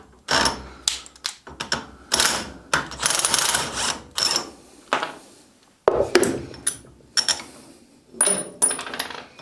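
Metal parts clink and ratchet in bursts as an HSK32 bench vise is taken apart and its lock nut is unscrewed, with close, irregular clicks and scraping and no talk.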